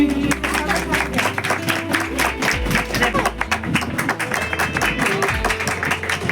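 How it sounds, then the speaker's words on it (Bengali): Audience applause at a gathering, dense continuous clapping of many hands at moderate loudness, with low music or hum underneath and some voices mixed in. "হাততালি।"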